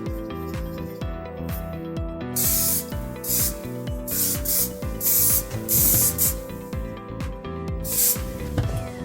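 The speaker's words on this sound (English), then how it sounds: "give it another spray of the hair finishing spray" Several bursts of hairspray hissing from a can, each a few seconds apart, mixed with clicking and rustling handling noises nearby.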